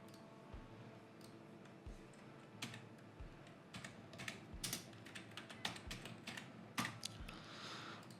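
Typing on a computer keyboard during a Figma design tutorial, a quiet run of close key clicks in irregular bursts, with a few soft mouse-like taps, faint overall and without talking.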